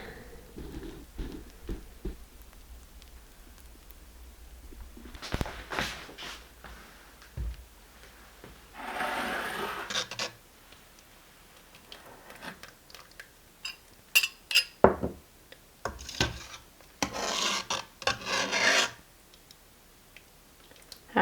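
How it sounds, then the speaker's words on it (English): Dishes being washed in a home kitchen while cooking chicken stew and dumplings, with scattered clinks of cutlery and pots, splashing water bursts and scrubbing, irregular and close by. "Oh, looks like I'm doing dishes."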